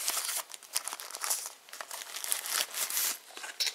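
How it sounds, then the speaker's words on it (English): Plastic wrapping being pulled off a black and white solar charger unit, with close, crisp crinkling and tearing in irregular bursts throughout, no voices. "Take the plastic cover off."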